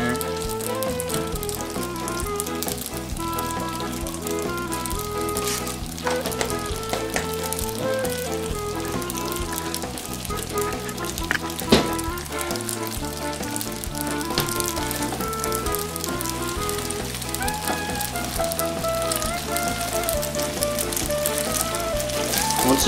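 A cream pasta sauce with Parmesan sizzles and bubbles as it reduces on the heat. The popping crackle is dense and continuous, close and fairly loud, with no talking.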